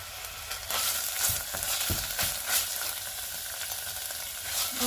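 Thai curry paste for a chicken curry with cha plu leaves stir-frying over low heat in a pan, a dense continuous sizzle with a few soft scrapes of stirring, close and alone without talk.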